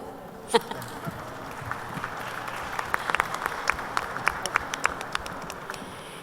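Scattered applause in a hall during a panel on national legislative harmonization, sparse and uneven clapping that builds gradually with distinct individual claps standing out over a low murmur.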